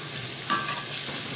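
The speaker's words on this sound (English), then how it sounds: "I'm going to stir the onion to make it enough like nice and translucent" Onion frying in a pan while being stirred, a steady close sizzle with a scraping stir partway through, no voices.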